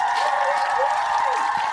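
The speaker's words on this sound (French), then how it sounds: "Quentin va mettre des bruits de petits clap-clap." A small round of clapping is added as a sound effect, a brief, steady patter of hands that stays even and fairly loud for under two seconds, with a faint voice underneath.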